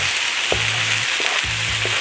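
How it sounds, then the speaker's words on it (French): Onions and leek simmer in a pan with a dense, constant sizzling hiss that fills the whole moment, and low tonal hums come and go underneath. "Après avoir remué les oignons, on laisse mijoter juste un peu, quelques minutes"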